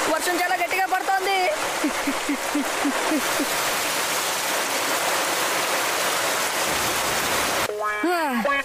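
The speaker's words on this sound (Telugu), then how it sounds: "వర్షం చాలా గట్టిగా పడుతోంది." Heavy rain in a cartoon pours as a dense, steady hiss throughout, loud and close, with brief voice-like tonal sounds at the start and a sharp chirping burst near the end.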